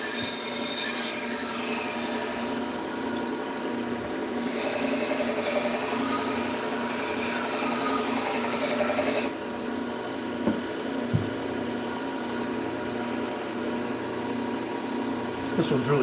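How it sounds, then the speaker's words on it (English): Knife blade being sharpened on a Trizac A30 600 grit sander belt, a steady abrasive rasping hiss over the belt motor's hum that continues throughout, loud and close, with brief shifts in tone as the edge is worked. "Now we're going to move down to a Trizac A30, which is a 600 grit belt."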